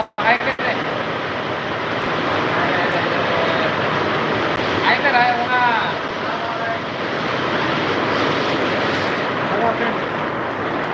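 Heavy rain in Latur, a loud broadband roar mixed with wind buffeting the microphone, steady throughout, with a voice briefly audible midway.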